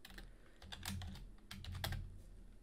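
Fingers typing code on a computer keyboard, a quiet, steady patter of rapid key clicks in two short bursts, close and alone.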